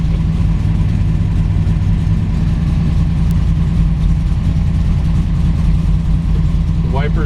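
A 1964 Dodge Polara hardtop with a 426 Max Wedge engine and four-speed idling just after starting, a loud, steady, deep rumbling lope close by, with a brief voice near the end.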